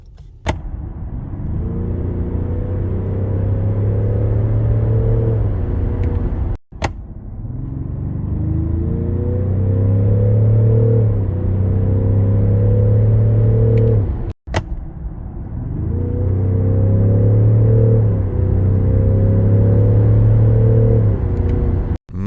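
A Range Rover Sport D350 3.0 straight-six diesel, fitted with a synthesized engine sound, accelerates hard three times in a row. Each run brings a rising, full-bodied drone with clear gear-change steps, heard loud and close from inside the cabin.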